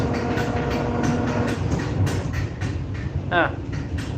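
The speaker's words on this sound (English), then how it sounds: "Yeah, this train is a bit old." An old train rolls along with a loud rumbling clatter and rhythmic wheel knocks, while a voice speaks over the noise and a brief squeal rises near the end.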